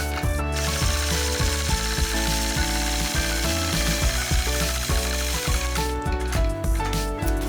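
A sewing machine stitching during ruler-guided quilting of a melon motif: a steady, loud, close mechanical rhythm of quick needle strokes that continues with no speech, with a brief pause near the start.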